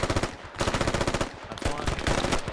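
Rapid machine-gun bursts in the military shooter video game Squad, close and loud rhythmic rattling in three strings separated by short pauses, with no talking.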